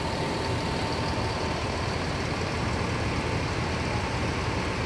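Mercedes-Benz OH 1626 bus with Jetbus 2 plus body idling at a garage, a steady, dense diesel rumble held close and unchanging throughout, with no voices.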